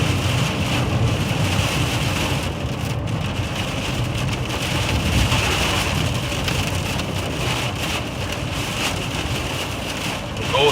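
Heavy rain from a storm band pounds a moving chase vehicle in a steady, dense roar with wind noise, loud and continuous throughout, with voices faintly underneath.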